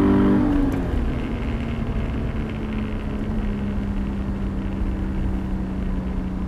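A Toyota GT86 engine on light throttle through a corner at Chichester produces a steady, even drone heard from inside the car, holding a constant pitch with no talking.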